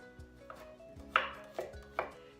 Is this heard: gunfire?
no